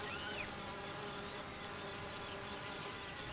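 Honey bees buzz in a faint, continuous drone that stays even throughout, with a few higher whines rising and falling as individual bees pass.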